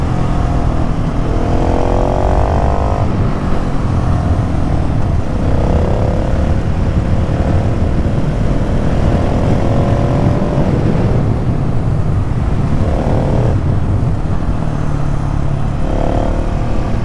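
A supermoto motorcycle runs steadily through tight corners, its engine droning loudly and continuously with repeated rises and dips in pitch as it revs and eases through each bend.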